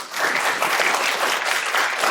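Dense, sustained applause from an audience at an investor pitch event fills the room, loud and continuous for a couple of seconds with no speech over it.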